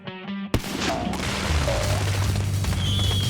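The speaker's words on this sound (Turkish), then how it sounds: "Biri şu patlamaları durdursun." Explosions boom and crash in a chaotic game scene, a sharp blast near the half-second mark followed by a dense, sustained roar of rumbling detonations and scattered bursts, loud and continuous throughout.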